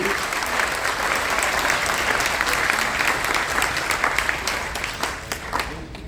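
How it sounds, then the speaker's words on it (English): A cruise ship audience applauds steadily at a military appreciation event, a full, loud wash of many hands clapping that tapers slightly near the end, with faint crowd voices underneath. "Give them a big round of applause."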